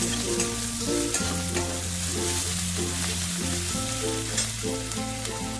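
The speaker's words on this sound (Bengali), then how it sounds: "দেখো পেঁয়াজটাকে একটু ভেজে নিলাম" Chopped onion and garlic frying in a pan, giving a loud, steady sizzle with faint stirring over a low tonal background.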